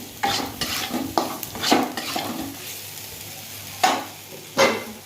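Spice paste sautés in a pan, quiet sizzling broken by several distinct scraping stirs and spoon knocks, spaced irregularly with pauses between them.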